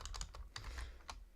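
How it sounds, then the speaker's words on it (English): Rapid typing on a computer keyboard, a steady run of close, fairly quiet key clicks in an irregular rhythm with no talking. "Typing is difficult."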